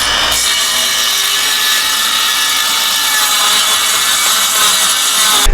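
A handheld power saw rips lengthwise through an 8-foot wood board with a loud, continuous, high-pitched whining buzz that holds steady from start to finish, with no talking.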